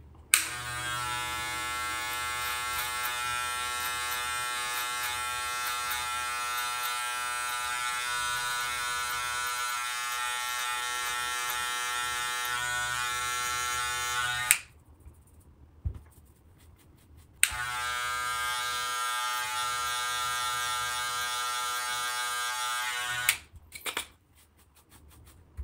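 An electric hair clipper fitted with a 3 mm guard buzzes steadily and close while cutting hair, cuts out for a few seconds, then runs again before stopping.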